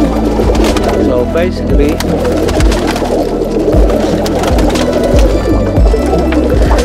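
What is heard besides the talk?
roller pigeons cooing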